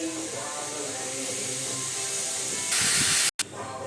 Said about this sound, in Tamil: வெயிட் பண்ணுங்கள், ஒரு விசில் வரட்டும்.